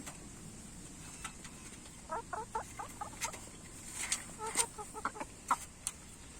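Free-range chickens cluck softly in a quiet outdoor setting, a scattered run of short clucks that grows busier partway through, faint and without speech.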